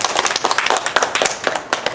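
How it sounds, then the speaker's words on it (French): A small group of children on the blue team clap for themselves at a kids' show, a close, brisk run of individual hand claps at an uneven rhythm, loud and sharp without any talk. "Applaudissez pour vous."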